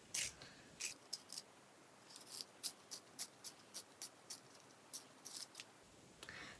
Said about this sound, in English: So I found a sharpener, and I'm just going to prove to you guys this does sharpen.